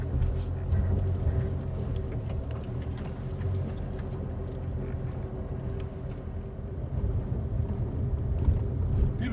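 A Holden Colorado drives a rough track out to a pit, its engine giving a steady low rumble with ticking and rattling over the top. No one speaks.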